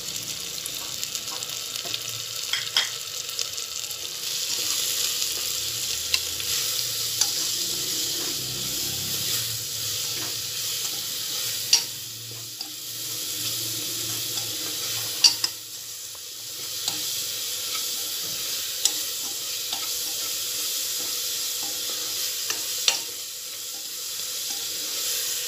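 Tomatoes cooking with salt, biryani masala and turmeric in a pan for moong dal masala rice, giving a steady soft sizzle with light stirring scrapes and occasional clicks, close and continuous, no talking.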